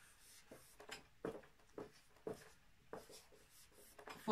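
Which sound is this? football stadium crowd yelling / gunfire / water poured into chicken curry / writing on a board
writing on a board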